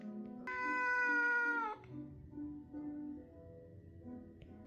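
A cat gives one long, loud, drawn-out meow, then quieter low growling and murmuring sounds follow indoors.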